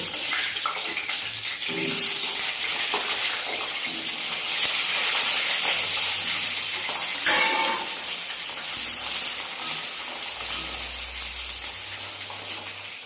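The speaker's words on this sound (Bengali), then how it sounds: "প্রথমে দিয়ে দিলাম তেল গরম হয়ে গেছে, দিয়ে দিলাম পটল" Pointed gourd (potol) slices fry in hot oil for a Bengali prawn dish, giving a loud, steady, broadband sizzle that runs the whole time with slight swells.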